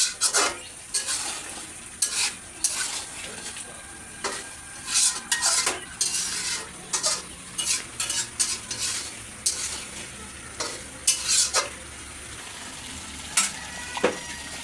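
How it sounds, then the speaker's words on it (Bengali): Spice paste for a village-style fish curry frying in oil as a metal spoon scrapes and clinks around the pot in quick, irregular bursts over a soft, steady sizzle, close up with no talk. "এখন এই যে আমি মশলাটাকে ভালো করে কষিয়ে নেব।"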